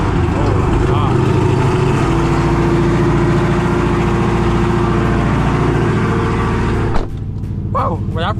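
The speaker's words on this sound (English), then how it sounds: "let's go ahead and get a cold start on this loud car" A 1000 hp Dodge Hellcat Redeye fires up from cold with a loud, rumbling engine roar that holds steady, then cuts off sharply, followed by brief shouting voices.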